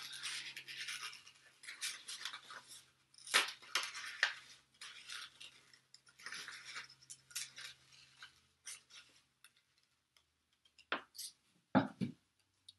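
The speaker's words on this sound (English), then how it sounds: "So I'm just going to cut my star out." Scissors snipping a star shape from leftover paper plate scraps at a craft table, a scattered series of short crisp cuts and rustles, close and fairly quiet with pauses between bursts.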